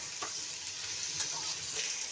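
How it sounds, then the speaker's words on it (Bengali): Potatoes frying in oil with turmeric are stirred in a pan, giving a steady close sizzle broken by soft scraping strokes. "এখন একটু হলুদ দিয়ে নেড়ে ফেড়ে নিচ্ছে"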